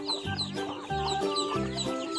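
Young chickens cluck steadily at close range while a child hands out feed, the calls coming in short repeated bursts.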